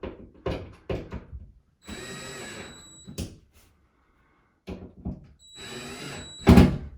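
A drill drives screws snug while installing a medicine cabinet, with two short whirring runs of the driver among knocks and handling clatter, then a final sharp thump.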